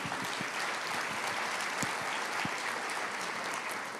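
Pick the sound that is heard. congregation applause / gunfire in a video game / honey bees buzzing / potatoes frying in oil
congregation applause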